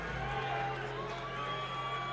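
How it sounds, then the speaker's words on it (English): A dense crowd roars steadily in an arena as hometown boxer Tyler Macari of Cranston, Rhode Island enters the ring at a boxing event, a continuous loud wash of cheering with a commentator's voice over it. "You hear that roar from the crowd."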